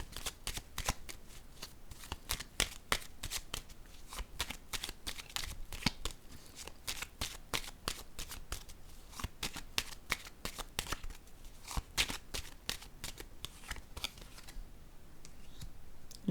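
Playing cards being shuffled over and over in a steady run of crisp riffling bursts, close and clear with no talking, during a tarot-style card reading.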